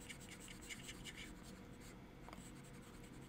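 A voice imitates the sound of erasing with a quiet, scratchy, rhythmic rubbing noise that continues steadily for a few seconds.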